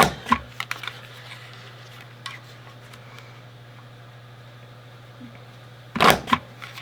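A craft punch pressing through paper, a few sharp close clacks at the start and a louder burst near the end, over a steady low hum with no talking.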